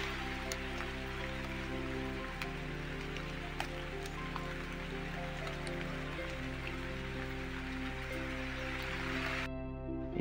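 Rain falling outdoors in the Konkan countryside makes a steady, even hiss throughout, with a low constant hum underneath and no talk.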